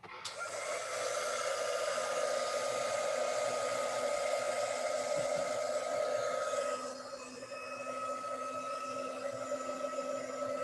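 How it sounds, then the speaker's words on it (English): A heat gun blowing hot air: a steady whooshing blower hum with a constant tonal whine, running continuously and dropping slightly in pitch and level partway through. "It's called the heat gun. And you can do a spot dry. It's pretty hot."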